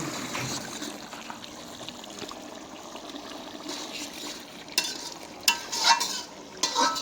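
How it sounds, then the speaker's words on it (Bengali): A spice paste is sautéed and stirred in a pan in a village kitchen, giving a low sizzle with scraping strokes and a few louder wet clatters near the end. "হ্যাঁ, মশলাটা কষানো হচ্ছে।"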